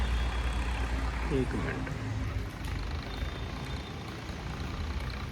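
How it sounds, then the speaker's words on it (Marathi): A tractor rumbles past outdoors in the rain, its low engine drone steady and moderately close. A person speaks briefly over it. "ते ट्रॅक्टर चालवायला चाललंय"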